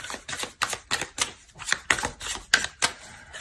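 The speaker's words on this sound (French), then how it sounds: "On va rajouter des cartes." Tarot cards being shuffled and laid out for a reading, a run of about a dozen crisp, close slaps and flicks in a quick, uneven rhythm.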